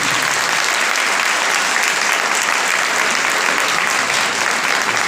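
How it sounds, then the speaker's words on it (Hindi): Loud, steady applause from a large church congregation fills the whole stretch without a break. "जोरदार तालियां जी।"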